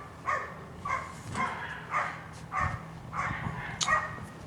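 A neighbourhood dog barks in a steady series of about eight sharp yaps at a moderate distance, evenly spaced over a few seconds, with no one speaking.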